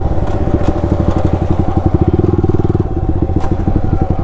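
A motorcycle fitted with an aftermarket exhaust idles and revs loudly up close, its rapid throbbing exhaust pulses steady and dominant throughout with no talk.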